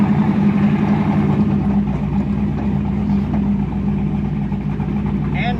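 A 1969 Ford Torino engine running, a steady low rumbling drone close by, with a voice faintly audible over it.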